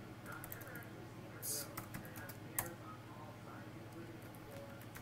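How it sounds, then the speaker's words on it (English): Someone types on a computer keyboard while writing code, producing faint, irregular key clicks with a couple of sharper taps over a steady low hum, quiet and close. "let's go ahead and just type this out over here"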